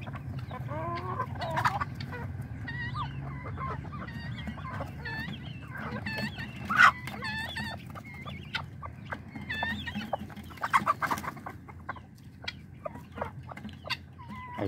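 Guinea fowl and chickens in a farmyard cluck and chatter almost nonstop, several birds at close range over a low rumbling background, with one sharper call standing out midway.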